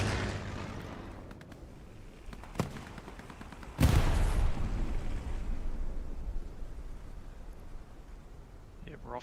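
A strafing run sweeps a battlefield in the World War II shooter Hell Let Loose, with scattered gunfire, then a loud blast of shots and rumbling that fades under a commentator's talk.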